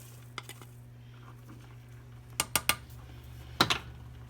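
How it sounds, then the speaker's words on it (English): A utensil stirs rice with tomato sauce, garlic and bouillon in a pot, giving a few faint scrapes and then several sharp clacks against the metal, close up under a low hum. "And we're going to stir that around really good."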